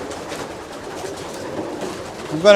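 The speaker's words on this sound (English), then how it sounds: "This little birdie here, it's brand new here. It's very young." Very young pigeon being held in the hand, giving soft low coos and murmurs close by, with faint background noise and a brief louder sound at the end.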